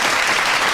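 Brief applause for a colleague in a casual breakroom chat, a short burst of dense clapping close by at a steady level.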